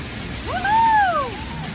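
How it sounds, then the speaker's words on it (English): A mossy waterfall in Bryce Canyon pours out a steady, close hiss of rushing water, and a single sliding vocal whoop rises and falls over it midway. "We made it under the waterfall."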